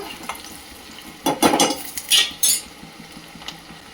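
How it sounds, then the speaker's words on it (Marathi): A finely chopped small onion frying in oil with cumin and mustard seeds, stirred in a pan. Brief bursts of sizzling and utensil scraping stand out clearly against a quiet background, with no talking. "आता आपण एक छोटा कांदा बारीक कापून टाकलेला आहे, तो आता टाकूया।"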